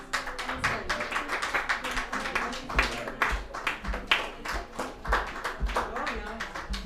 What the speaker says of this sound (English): Another round of applause for Q&A,